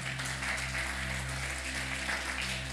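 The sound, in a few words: church congregation applause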